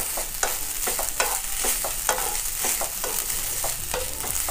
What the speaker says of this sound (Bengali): আমি হালকা করে ভেজে নেব নারকেলটা।